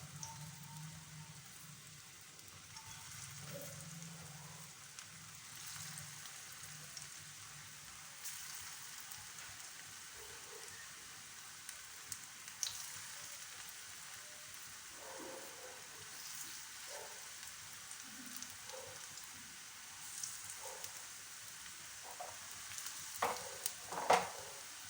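Coriander leaf fritters fry in a little oil and give a quiet, steady sizzle like light rain. Occasional soft taps and crackles come through, and the sound stays faint throughout without speech.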